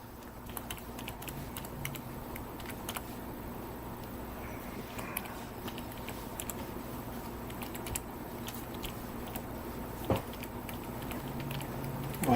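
Rapid, uneven keystrokes on a computer keyboard continue throughout, moderately close, over a steady room hum, with a slightly louder clack near the end.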